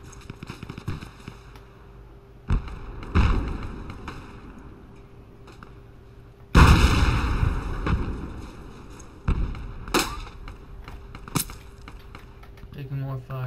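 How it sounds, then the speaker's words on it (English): Gunfire in the Project Reality game on the Basrah map, several sharp cracks and bursts at irregular intervals, some loud and close, others fainter, over a steady background hum. "Taking more fire."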